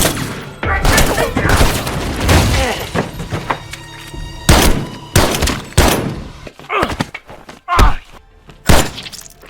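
A gangster action film shootout in which police are gunned down: loud, close gunshots crack in irregular bursts and single blasts, mixed with heavy thuds and impacts, with some voices faintly underneath.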